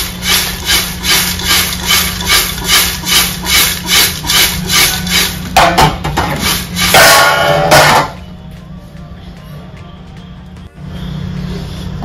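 Makka chivda corn snack mixed by hand in a bowl, a rhythmic rustling and scraping repeated in regular strokes, loud and close, then stopping into quieter handling.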